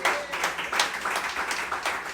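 A church congregation applauds during a Brazilian evangelical service, a brief burst of steady, fairly loud clapping from many hands.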